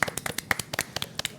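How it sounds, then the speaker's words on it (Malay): Children in a classroom science lesson clap their hands together, a quick scattered burst of claps over about a second and a half. "Tepuk Tangan adik-adik."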